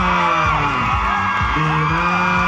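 A crowd at a Thai corporate event with celebrity guests screams and cheers loudly and continuously, many high voices whooping and gliding in pitch at close range.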